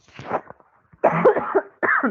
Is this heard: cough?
yes